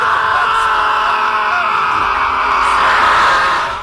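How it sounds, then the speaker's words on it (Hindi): A honey badger gives a loud, sustained screaming cry at night, a harsh continuous shriek that holds steady and fades at the end, with no voices. "बिज्जू की आवाज रात के वक्त दिल दहला देती है।"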